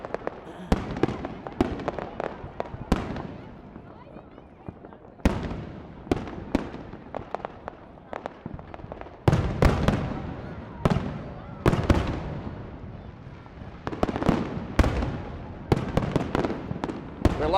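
Repeated fireworks bursts booming and crackling in irregular clusters, some sharp and loud, others softer, with a continuous rumble between the blasts.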